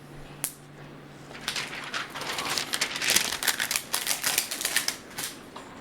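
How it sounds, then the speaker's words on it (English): Thin plastic protective film peeled off a Toshiba Satellite E45-B4100 laptop screen, a close crackling, crinkling rustle that builds after a sharp initial tick and continues in quick bursts. "I'm going to go ahead and remove the plastic cover"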